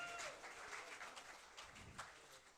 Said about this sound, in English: Give Michael a nice round of applause.